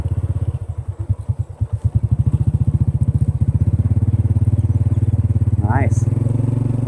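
A Honda motorbike engine puttering steadily while riding a scenic road in Thailand, loud and close with a fast pulsing beat that rises in pitch near the end.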